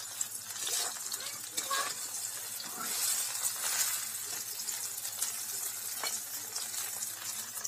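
Small pieces crisping in hot oil in a home kitchen, a steady dense sizzle and crackle that runs the whole time with a few louder pops and stirring bursts, close by.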